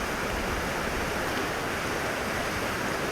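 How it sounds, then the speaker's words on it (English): Water runs steadily in a small stream at Yantic Falls in Norwich, Connecticut, a constant broadband rushing that stays loud and even with no pauses. "stream of water coming out of what used to be a raging, massive, beautiful waterfall is now pretty much nothing."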